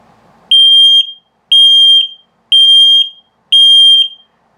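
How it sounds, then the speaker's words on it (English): Carbon monoxide and LP gas detector in a 2021 Zinger Lite 270BH travel trailer signalling a low battery with four loud, piercing high-pitched beeps, evenly spaced about a second apart with silent gaps between. "So if it beeps slowly like that, it's telling you that your battery's low."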